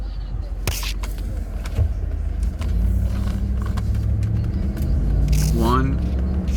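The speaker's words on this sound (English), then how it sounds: "let's do one more acceleration through the gears. I'll do it from a dead stop" A 2007 Ford Explorer Sport Trac V8 4WD pulls away from a dead stop, its engine rumble swelling and dropping as it shifts up through the gears, heard from inside the cab with a voice speaking over it.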